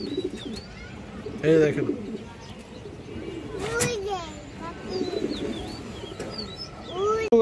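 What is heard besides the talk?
pigeons cooing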